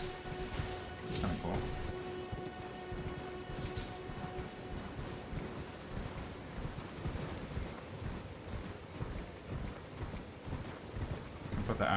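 Steady, rhythmic hoofbeats of a galloping horse in Elden Ring, continuous and moderately loud over a soft ambient wash.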